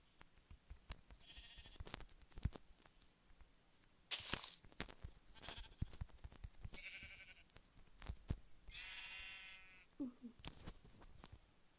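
Sheep in Minecraft Pocket Edition bleat several times in short, wavering cries spread across the clip, with soft game footsteps and faint background noise between them.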